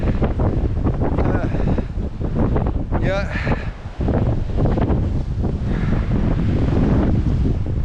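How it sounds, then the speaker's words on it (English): Strong wind roars without a break across a microphone on the peak of Diamond Hill, gusting from the west side, while a person says a word briefly. "And it's windy again. All the wind force from the west side of the hill has just hit me."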